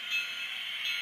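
A steady, high-pitched electric whine of an N scale Frisco InterMountain FP7A model locomotive motor running continuously, close by, with no voices.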